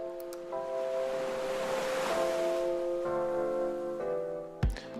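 Ocean surf at a beach on Saint Barthélemy in the Caribbean makes a soft, swelling wash that peaks midway, with music playing over it.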